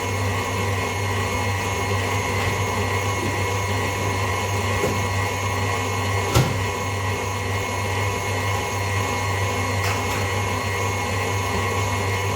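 A mixer kneads gluten-free chocolate brioche dough with a steady, continuous motor whir and hum, broken only by a single brief click midway, with no voices.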